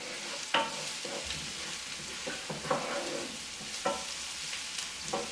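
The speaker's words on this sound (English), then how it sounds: "the rest of my veggies I'm working on right now are the onions, which I'm going to stir." Onions sizzle steadily in a pan while a utensil stirs them, a continuous frying hiss punctuated by a few distinct scraping strokes at irregular intervals, close and fairly quiet, with no talking.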